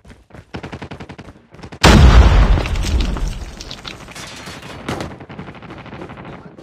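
A loud frag grenade detonates in Call of Duty Mobile, a sudden heavy boom with a long rumbling tail. Game voice callouts come before and after it.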